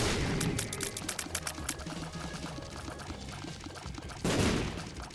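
Rapid bursts of game explosions and popping tear shots from The Binding of Isaac: Afterbirth+ fire in dense, crackling volleys with a steady wet rushing undertone, and a louder blast swells near the end.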